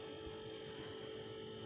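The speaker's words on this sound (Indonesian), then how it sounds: "kompresor sudah jalan" The compressor of a Sharp two-door refrigerator that is not cooling runs with a steady, faint electrical hum and a continuous whine, close up and unchanging, with no voices.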